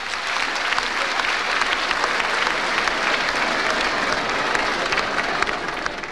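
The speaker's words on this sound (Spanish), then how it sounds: "pido un aplauso fuerte al presidente por los 7 millones que nos mandó para esta obra" A crowd at a school inauguration in Tarija gives loud, sustained applause for the president, a dense and even wash of clapping that lasts the whole stretch with a faint murmur of voices underneath.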